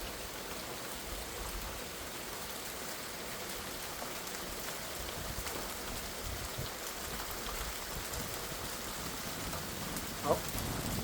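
Steady rain falls on concrete and a roof during a lightning storm, a dense even hiss of drops that holds level throughout with a brief sharper knock near the end.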